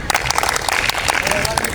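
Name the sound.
applause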